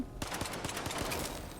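Rapid automatic gunfire in STALKER 2, a burst of evenly spaced shots, about five a second, starting abruptly after a brief pause and staying loud and close throughout.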